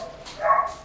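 A single dog bark, a short, fairly loud yelp at mid-clip, heard alone.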